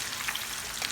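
Bacon-wrapped beef franks fry in a pan with a soft, steady crackling sizzle, faint and close, with no voices.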